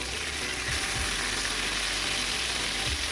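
Pointed gourd (potol) frying in a pan, giving a steady, close, dense hiss of sizzling oil throughout with a few faint knocks of stirring.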